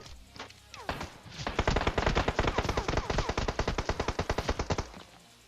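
Sustained automatic gunfire in PUBG Mobile, a long rapid burst of evenly spaced loud shots lasting several seconds before stopping abruptly.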